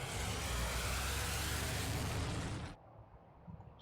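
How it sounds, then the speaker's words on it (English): Trucks hauling goods in a video game give off a steady, loud engine rumble that cuts off abruptly near the end, leaving a faint low background. "That's the stuff coming in by truck."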